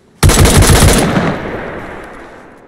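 Loud close burst of automatic gunfire in the survival game DayZ, a rapid string of shots lasting about a second and then a long echoing tail that fades away.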